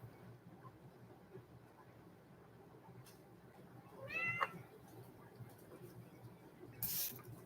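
A house cat gives a single drawn-out meow at middle distance, rising and falling over about half a second against a quiet room hum, followed shortly by a brief hiss-like burst.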